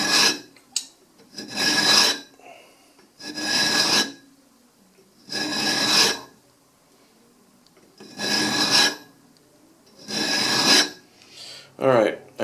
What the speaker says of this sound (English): start filing